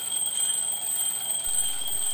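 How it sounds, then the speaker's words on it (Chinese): A steady electronic alarm clock tone rings continuously with no voices, used to show the Doppler effect as its pitch changes while it moves closer and farther away. "闹钟靠近时音调变高，远离时变低"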